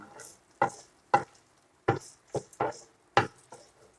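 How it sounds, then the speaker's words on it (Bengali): Garlic and ginger paste sautés in oil in a pan, heard as a run of sharp, separate spoon strikes and scrapes roughly every half second against a faint background of frying. "রসুন আর আদাটা আমি একটু তেলের সাথে কষিয়ে নেব"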